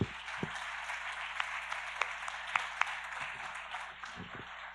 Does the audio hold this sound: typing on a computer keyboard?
no